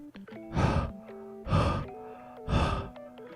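Three slow, close mouth exhalations breathed onto a CA-glued seam of a plastic Gunpla model kit, each a soft breathy whoosh about a second apart, with faint music tones running underneath.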